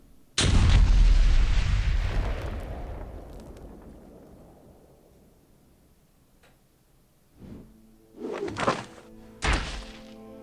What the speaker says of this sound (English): ended with a toxic bomb 26 times more powerful than the first one, exploding.